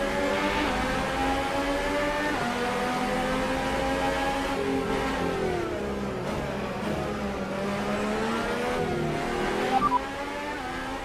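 Formula 1 cars at a race start in the F1 2018 video game: loud, continuous high-pitched engine whine with rising and falling revs as the cars accelerate, sustained throughout.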